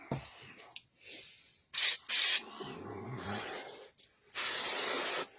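An airbrush spritzing light brown paint onto a werewolf figure's skin in short bursts of sharp hiss, close up, with quiet gaps between sprays and a low murmur under one of them.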